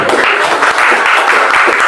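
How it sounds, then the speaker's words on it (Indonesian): A congregation at a Christmas service claps together in a brief burst of steady, fairly loud applause close by, with no talking over it. "Tepuk tangan dulu"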